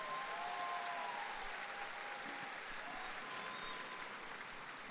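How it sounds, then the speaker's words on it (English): Distant, soft applause from a large convocation crowd in a school district gathering, a smooth continuous hiss of many hands with faint tonal whistles or cheers mixed in. "Let's give them all a big round of applause."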